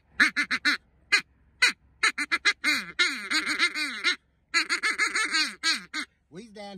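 Duck call blown to imitate blue-winged teal, with short, rapid quacking notes in quick bursts, then longer, wavering calls, loud and close.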